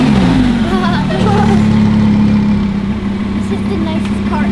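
A twin-turbo Lamborghini Huracán idles loudly nearby with a low, steady engine drone, while voices chatter over it.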